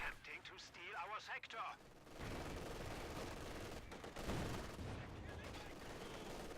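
Machine gun fire in a real-time strategy battle game, a dense rattling stream of distant bursts and artillery thuds forming a continuous wash of gunfire, preceded by a caster talking briefly at the start.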